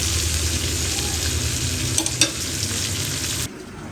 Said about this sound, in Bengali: ইলিশ মাছ রান্না করি টমেটো আলু দিয়ে